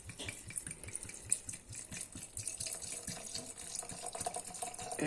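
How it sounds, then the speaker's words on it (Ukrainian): Vodka pours steadily in a thin stream into a jar, with a soft trickling, bubbling sound close by and no talking. "І наливаю."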